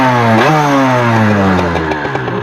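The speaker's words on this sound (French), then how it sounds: "Donc là on va faire le démarrage." An older Derbi DRD motorcycle running without its restrictor, loud and close, revving up sharply and then holding a high, buzzing two-stroke whine that slowly eases off.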